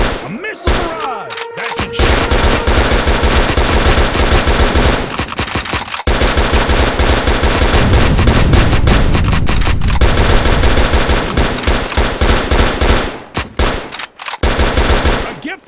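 Rapid automatic gunfire and explosive bursts from the Gun Gladiators battle royale game during a missile barrage, loud and nearly continuous, with dense volleys broken by brief gaps.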